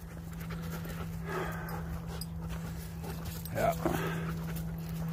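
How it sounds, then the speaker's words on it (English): Dog panting on an outdoor trail, a steady breathy rhythm close by with a few brief whimpery sounds, over a constant low hum and outdoor background. "Another dog on the trail."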